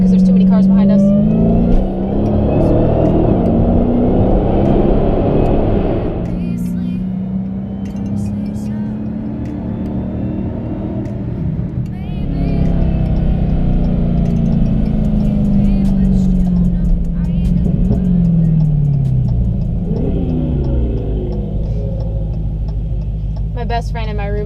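A Dodge Challenger Hellcat driven in second gear, its engine droning and revving in rising and falling surges, loud and close throughout, with a voice talking over it.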